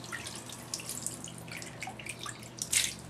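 An eyeliner brush is rubbed back and forth in running water: trickling and dripping with soft splashing and light scrubbing, rising to a brief louder swish near the end; no voices.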